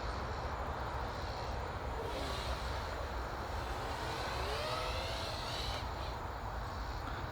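Flywoo Explorer LR 4 V2 FPV drone flying freestyle outdoors, its whining motors rising and falling in pitch over steady wind-like broadband noise, fairly loud and continuous with no talking.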